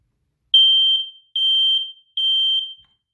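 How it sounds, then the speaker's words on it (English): Three loud, high-pitched smoke alarm test beeps in a steady pattern, each lasting about half a second with short gaps, alone in silence in a home hallway. "Now let's test this one out."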